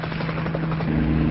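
A helicopter drones steadily nearby, its low rotor hum constant and loud throughout the short clip.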